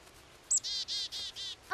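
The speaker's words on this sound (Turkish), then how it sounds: "Aa, bir kuş. Büyük anne bak elime kondu." Cartoon bird chirps in a quick run of five bright, high tweets close by, clean and rhythmic, with a short rising call at the end and no talk over them.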